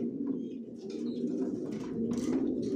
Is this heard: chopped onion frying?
no